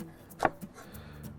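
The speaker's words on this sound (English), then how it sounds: "We're chopping some cilantro now" A knife chops fresh cilantro on a cutting board for a fish dish's slaw, giving one clear, close chop followed by a couple of softer taps in a quiet kitchen.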